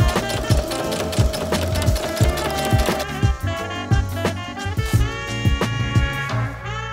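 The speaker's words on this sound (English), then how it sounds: "Basting is in place, and so now we're just going to top stitch all the way around." A sewing machine topstitches all the way around a pair of homemade high-waisted wide-leg trousers, its rapid, even mechanical stitching running close and steady alongside soft background music, with no talking.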